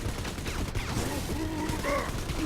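Rapid gunfire from a BioShock 2 fight against a flaming Splicer: dense, overlapping shots form a steady, loud barrage with harsh game effects mixed in.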